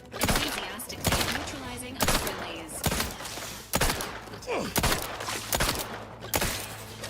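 Eight sharp gunshots from The Outer Worlds 2 crack out one after another at roughly one-second intervals, loud and close, over a busy game soundscape with a voice speaking between them.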